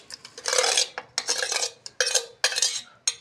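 Yogurt being stirred into masala in a karahi for green masala eggs, a spoon scraping the pan in several bursts of rough, wet stirring with brief pauses, close and moderately loud.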